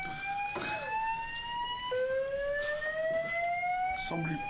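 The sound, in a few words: fire alarm going off in building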